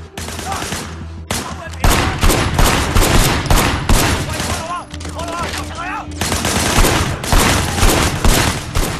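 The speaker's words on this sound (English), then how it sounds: "Firing shots from the passenger window." Rapid bursts of gunfire ring out in Sleeping Dogs as a shooter fires from a car's passenger window, loud volleys stacked over engine rumble and other game sounds.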